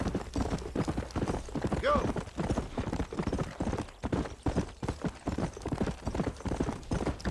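Steady, rhythmic clip-clop of horse hooves while riding in the Red Dead Redemption video game, a brisk repeating beat on hard ground with a brief whinny early on, moderately loud throughout.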